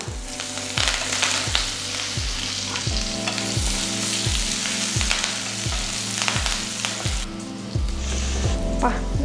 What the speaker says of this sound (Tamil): கருவேப்பிலை போட்டாலே தெரிக்குது